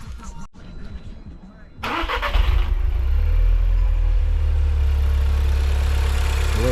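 An MK6 Golf R with a runner flap delete cranks briefly with a rough whir, then fires up with a loud burst and settles into a steady, deep idle.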